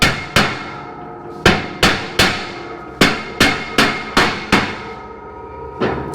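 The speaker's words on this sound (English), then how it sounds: "it's just a rubber hammer, and I'm not, I mean, you can't even see where I'm hitting it" A rubber hammer strikes a 1/4-inch aluminum plate for a pond drain grate, about a dozen sharp, ringing blows in an uneven rhythm, each with a short metallic decay, loud and close with no talking.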